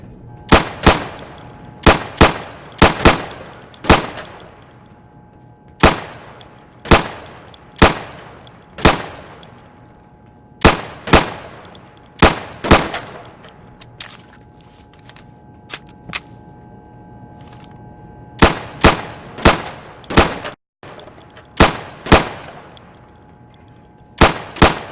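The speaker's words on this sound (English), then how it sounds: "Go over to the firing booth. Take down those targets as quickly as you can." Gunshots hit targets in a firing booth in the video game Insurgency, a loud series of sharp single shots in quick bursts with metallic clangs and a few short pauses.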